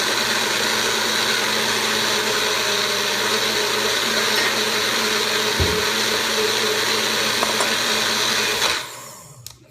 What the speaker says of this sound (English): I'm going to go ahead and turn on this blender